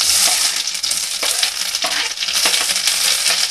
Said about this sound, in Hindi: जब तक प्याज गोल्डन ब्राउन नहीं हो जाता, तब तक इसी तरीके से भूनते रहेंगे।